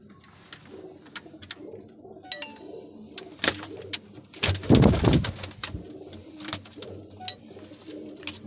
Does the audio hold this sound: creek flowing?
no